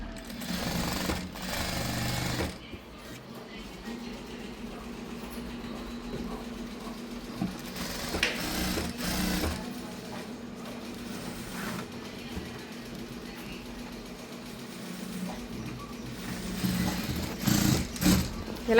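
A sewing machine motor whirs steadily as it stitches stretched elastic onto cloth, a close, continuous mechanical drone with brief pauses and shifts in pace.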